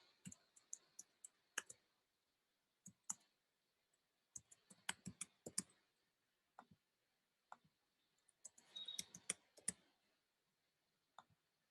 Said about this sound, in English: So I'm going to type in my name, the first name, last name, the address, and my contact number.